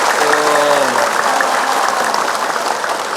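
Steady clapping from an audience at an Islamic sermon, a dense wash of hands that carries evenly throughout, with a brief tonal voice briefly heard near the start.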